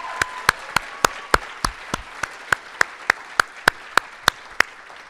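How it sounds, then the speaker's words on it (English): Sparse clapping at an awards ceremony, about fifteen sharp single claps in a slow, regular rhythm, fairly close, with faint room noise between them. "ladies and gentlemen, please, another round of applause for Dr. Whitney and Delano."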